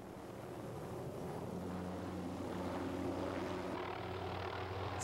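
A helicopter moving Christmas tree bundles drones steadily nearby, a continuous low rotor and engine rumble that holds throughout.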